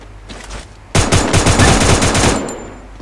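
Video game gunfire: a few faint shots, then a loud, close burst of rapid automatic fire lasting about a second and a half before it cuts off.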